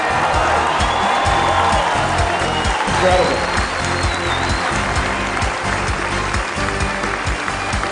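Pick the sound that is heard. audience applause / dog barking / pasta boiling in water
audience applause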